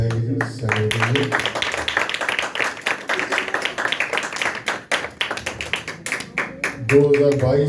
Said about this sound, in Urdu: زوردار تالیاں بجائیں گے سینے کے لیے